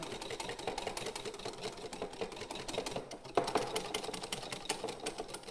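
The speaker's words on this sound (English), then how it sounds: "Our cream is whisked and our custard has cooled" Cream is whisked to soft peaks with a rapid, steady, rattling whir that runs without pause at moderate volume, with one brief knock partway through.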